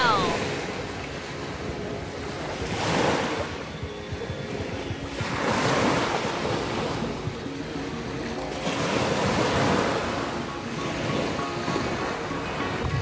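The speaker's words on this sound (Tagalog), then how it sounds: "Mau na siya dagat." Sea waves roll onto the shore of an island beach at Tabuelan, Cebu, with steady surf swelling in slow repeated surges, mixed with wind buffeting the microphone.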